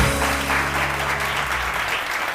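A studio audience on a morning TV show claps for jewellery designer Shaista Kausar, a sustained, fairly loud crowd applause over a faint musical bed that fades partway through.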